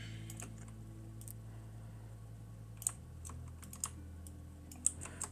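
Keystrokes on a computer keyboard click sparsely at close range, a few isolated taps over a quiet steady hum, with several sharper louder presses standing out.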